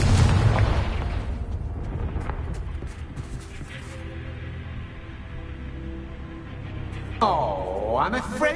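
Explosion from the Confringo spell in the Hogwarts Legacy game: an opening burst with a fading rumble, more crackling bursts partway through, and a whooshing swell near the end, with a voice talking over it.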